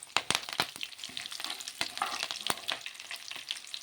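Chana dal, urad dal, mustard seeds and cumin seeds sizzle in hot oil for an egg potato fry, popping in sharp, irregular crackles over a soft, steady frying hiss, close and fairly loud.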